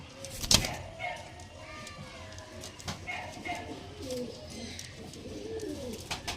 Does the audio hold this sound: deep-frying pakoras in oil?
no